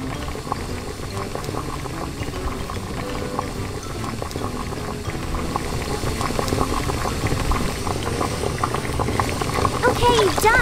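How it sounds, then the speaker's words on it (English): Water boils steadily in a pot for cooking crab, a continuous bubbling and churning that grows slightly louder toward the end, with faint voices and clinks in the background. "Boil the crab."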